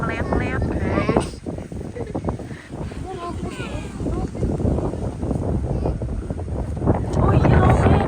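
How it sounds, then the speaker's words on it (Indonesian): Strong gusts roar across a hilltop camping ground in Bogor, buffeting the microphone with steady low rumble and flapping plastic, while people talk loudly over the wind throughout. "angin kenceng banget guys"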